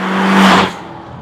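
The 1.8-litre BAM turbo four in a 2000 first-generation Audi TT gives a short, loud grunt of revs after a downshift, swelling for about half a second and then quickly falling away.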